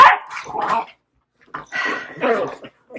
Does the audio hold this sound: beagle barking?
yes